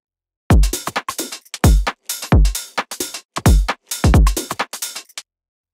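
A UK garage drum loop made in FL Studio 21, layered with subtle texture samples, punches through in a shuffling pattern of sharp kicks and snappy hits with clean gaps between bursts, loud and close.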